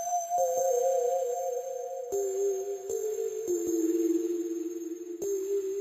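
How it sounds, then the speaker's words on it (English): An ambient Nordic pluck synth from the Octane Serum Bank plays an eerie melody in a trap beat: sustained, sine-like tones that step between pitches, with sharp percussive ticks marking each change. "I then used this Nordic pluck,"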